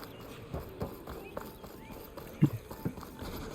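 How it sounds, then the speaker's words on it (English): Horse hooves clip-clop on the ground in Horizon Forbidden West, soft irregular steps of a mount moving nearby over quiet game ambience, a couple of louder thuds standing out. "A cavalo está aqui à espera e tudo."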